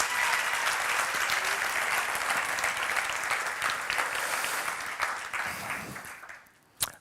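Sustained audience applause at a church-style motivational talk, loud and dense clapping from a large crowd that holds steady for several seconds, then thins out and fades with a few final claps near the end.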